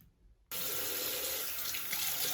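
Warm water runs from a kitchen sink faucet to rinse a Ninja Foodi grill splash shield, starting abruptly and then pouring steadily and loudly, close up, with no talk.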